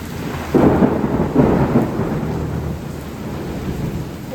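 Heavy rain pours down in a stormy downpour driven by strong wind, a loud, dense roar that swells sharply after the first half-second and then holds steady to the end.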